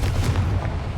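A Confringo blasting spell goes off in a video game, a loud, dense booming burst with rumbling low end sustained for about a second, no voices over it.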